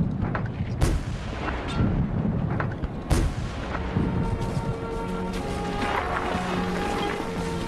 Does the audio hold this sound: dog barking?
no